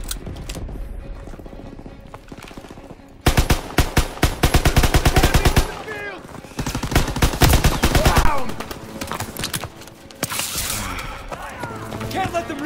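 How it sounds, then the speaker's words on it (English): Rapid bursts of automatic and single-shot gunfire in the Call of Duty WW2 D-Day mission, loud and close, coming in clustered volleys separated by brief lulls. "They're shooting me through the damn gate"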